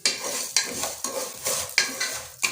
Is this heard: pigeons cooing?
no